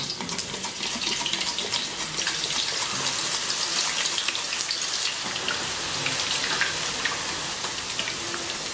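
Thin-sliced potato chips fry in hot oil over high heat, a dense steady sizzle of crackling bubbles that continues evenly without pause.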